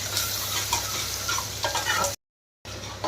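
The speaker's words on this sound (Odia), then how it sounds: "ଦେଖିପାରୁଥିବେ ପିଆଜ ଆମର ପୁରା ଭାଜି ହେଉଛି" Onions frying in mustard oil in a pan for a bhakur fish curry, a steady close crackling sizzle with a few stirring clicks, cut by a brief silent gap before the sizzle resumes.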